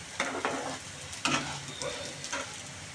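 Spices for bhuna khichuri sizzle softly in a pan close by, with a steady low hiss broken by a few stirring scrapes at regular intervals.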